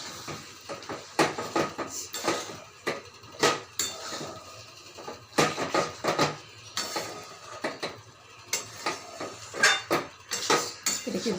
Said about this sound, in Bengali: এবার রাজমাগুলো নামিয়ে রেখেছিলাম সেগুলো দিয়ে দেবো। এটা দিয়ে একটু ভালো করে কষিয়ে নেব।